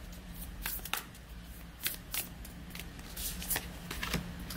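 Soft riffling and flicking of oracle cards being shuffled by hand, close and quiet, with irregular crisp snaps scattered over a faint low hum.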